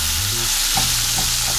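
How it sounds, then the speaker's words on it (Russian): Onion fries with spices in a pan, producing a loud, constant sizzle broken by a few stirring scrapes. "Сюда выкладываю лук. И обжариваю вместе со специями."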